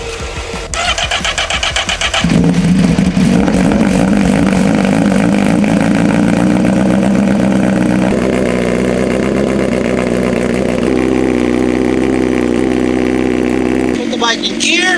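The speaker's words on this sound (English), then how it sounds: "Let's get a cold start." A 2025 Honda CBR 1000RR-R Fireblade motorcycle mounted on a stand cranks over for a cold start and catches, then settles into a loud, steady idle with a high, busy engine tone that holds close by until a brief change near the end.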